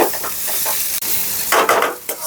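Onion, beans and carrot sauté in a pan for mushroom fried rice. A close, loud sizzle runs under repeated stirring, with a spatula clinking against the metal.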